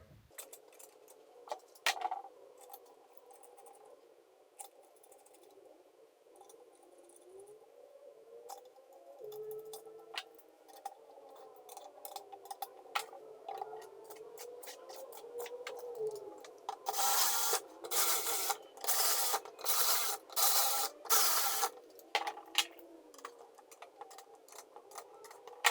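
Parts of an F80 BMW M3 steering wheel are screwed back together by hand, giving close scraping, clicking and rubbing, with a quick burst of rapid ratcheting strokes near the end.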